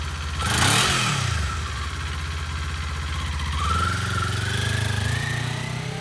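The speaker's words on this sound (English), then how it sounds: "Fuel injected, twin cylinder, never stops revving." A fuel-injected twin-cylinder 2019 Kawasaki Z400 motorcycle engine revs sharply, then settles into a steady, loud idle-like drone before rising again, close by with no voices.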